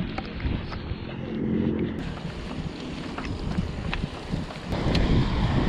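Strong wind blasts the microphone during a bike ride toward Infanta ahead of rain, a loud, continuous rushing roar with uneven gusts that swell near the end.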